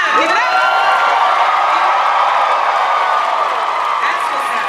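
Large Comic-Con Hall H audience cheering and applauding at a panel, a loud, steady wall of claps, whoops and screams that holds for several seconds before easing slightly.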